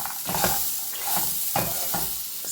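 Brown chickpea salad with grated coconut being stirred and tossed in a bowl, giving soft, close, rhythmic scraping and mixing strokes repeated several times over a quiet background.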